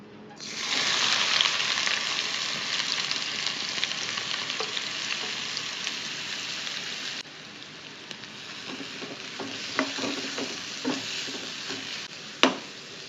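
Ginger, garlic and onion sizzle steadily in hot oil in a pan for prawn masala, a dense continuous frying hiss with a few soft stirring clicks toward the end and one sharp tap near the close.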